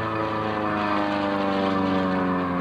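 An aerobatic propeller airplane flies a four-point hesitation roll at the 2004 AirPower Over Hampton Roads air show, its engine a loud, steady droning roar throughout.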